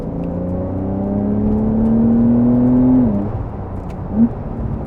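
A 2020 Porsche 911 Carrera 4 (992) in sport mode pulls with a steady, rising engine drone, then the revs drop sharply as the gearbox downshifts, followed by a brief blip and a quieter cabin hum.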